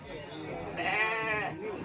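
Goats bleating on a goat farm, a wavering nasal bleat rising and falling over about a second, close and fairly loud.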